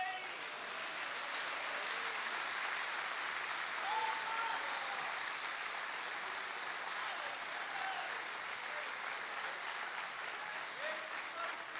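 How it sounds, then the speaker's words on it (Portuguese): A church congregation at an evangelical service applauds, a dense, steady wash of clapping that holds at an even level for the whole stretch with no break. "Vocês podem aplaudir a Jesus."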